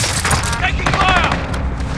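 Gunfire in Call of Duty: Modern Warfare, a loud close burst of rapid shots with booming impacts, mixed with game voices talking over it.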